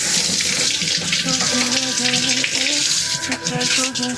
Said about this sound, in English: Now I'm gonna rinse it under some cold water because that's hot.